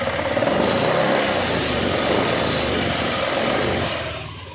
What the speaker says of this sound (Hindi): इंजन का साउंड गाइस पूरा खराब हो चुका है।